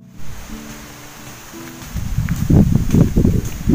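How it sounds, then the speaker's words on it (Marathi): Strong gusts of wind rumble and rush, building after a calmer start into loud, buffeting waves with a faint rustle. "आज भरपूर वारा आहे."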